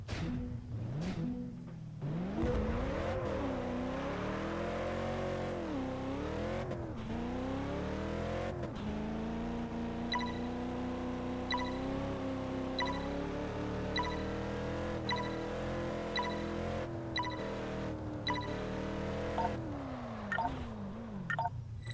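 Engine of a car in Test Drive Unlimited 2 holding a steady, loud drone with rising and falling revs as it drifts through weight transitions, continuous and close throughout.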